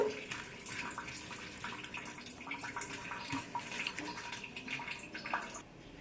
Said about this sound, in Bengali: এক জল দিয়ে দুবার তিনবার ধরে ভালো করে ধুয়ে নেব